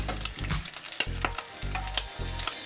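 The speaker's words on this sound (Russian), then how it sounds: "И теперь в эту сковороду мы отправляем наш кусок мяса." A piece of beef sizzles in a frying pan that was just used for bacon, with crackling, spattering frying that swells in rhythmic waves, close and loud, with no talking.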